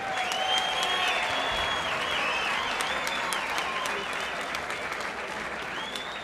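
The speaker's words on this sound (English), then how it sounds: "how about a fine round of applause for both boxers?" A boxing match crowd in a ballroom gives sustained applause for both boxers, a steady wash of clapping that continues across the whole stretch with faint crowd noise beneath.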